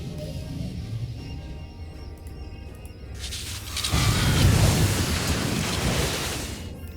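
Sith Inquisitor Force storm lightning in SWTOR erupts into a loud, dense crackling roar after a few quieter seconds, holding a broad rumbling surge to the end with no voices.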